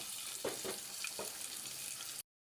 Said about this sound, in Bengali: এইদিকে মাছ ভাজির তেলে পেঁয়াজ আর 3টি কাঁচামরিচ ফ্রাই হতে দিয়ে দিব ভর্তা বানানোর জন্য